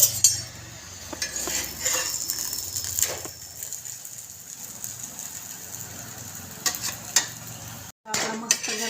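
Stir-frying in a pan over full heat while making methi dhapate, with metal spatula scrapes and clinks over a faint sizzle, at moderate volume.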